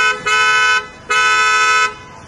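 An original Hyundai Creta car horn sounds two loud, close honks, the first short and the second longer, with no talk.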